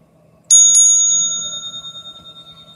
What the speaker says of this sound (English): let's go ahead and hit the bell